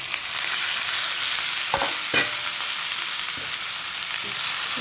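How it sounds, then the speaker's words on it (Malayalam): Bombay duck fish frying with onion and garlic paste in a pan, a loud continuous close sizzle with a few soft scrapes and knocks as it is stirred. "നമുക്കിതൊന്ന് ഇളക്കി കൊടുക്കണം. നല്ലോണം പൊരിയട്ടെ."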